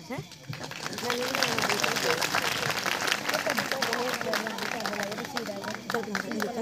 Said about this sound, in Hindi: जोरदार ताली हमारे कमेटी के प्रधान जी के लिए